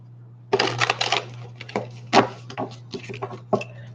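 A deck of oracle cards is shuffled by hand in a series of quick papery riffles and taps over a low steady hum.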